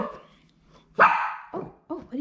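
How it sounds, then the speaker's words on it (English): A small eight-month-old Yorkie-Poo gives a few short, sharp, close yips and barks after a quiet opening, three quick bursts in about two seconds. "You have a cute little bark."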